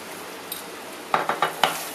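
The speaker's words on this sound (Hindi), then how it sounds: "अब इसको मैं अच्छे से भूनूंगी जब तक ये घी न छोड़ दे।" Onion masala frying in ghee hisses with a soft steady sizzle, then four quick spoon scrapes and taps against the pan come in close succession near the end.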